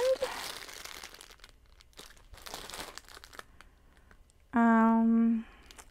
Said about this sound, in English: this is some newspaper